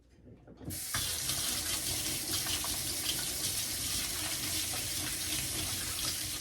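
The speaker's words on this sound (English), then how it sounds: "the first thing I'm going to do is wash my hands" Tap water runs steadily into a sink as hands are washed in a home kitchen before baking banana bread, a constant close splashing rush that starts abruptly after a brief quiet moment and continues without talk.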